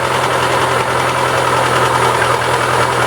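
A Daewoo Lanos 1.4 engine idling with a cylinder head knock, a steady close, loud mechanical hum with a continuous low drone and faint rapid ticking.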